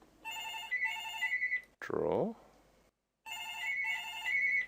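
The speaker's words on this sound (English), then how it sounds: "Just ignore the phone in the background there." A telephone rings in the background of an online teaching session, with repeated electronic ring bursts separated by pauses, while someone speaks briefly over it.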